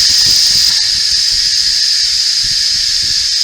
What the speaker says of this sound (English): we're going to release the steam for 3 minutes